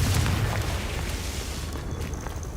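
A Confringo fire spell explodes in Hogwarts Legacy, a loud rumbling boom that fills the moment and rolls on steadily before thinning slightly, with no talk over it.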